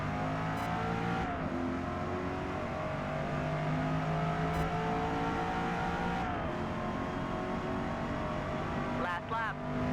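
A 2024 Corvette E-Ray C8 laps the Nürburgring GP circuit in the racing game Forza Motorsport 8, its engine wailing through rising revs with sharp downshifts, while someone commentates over it.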